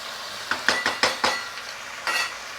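A metal spoon scrapes and clinks against a pan while raw prawns fry with salt, chili and turmeric, a quick series of sharp taps followed by a brief scrape over a faint sizzle.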